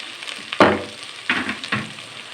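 Ginger garlic paste sizzling in hot oil in a pan while being stirred, with a few sharp scraping bursts over a steady frying hiss.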